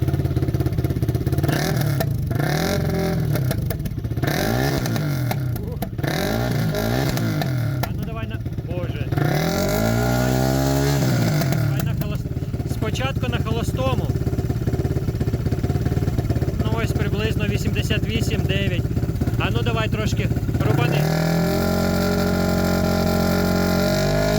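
A Geon Scrambler 300 motorcycle with its stock exhaust idling and revving repeatedly, loud and close, with rising and falling pitch sweeps and a steady rumbling exhaust tone.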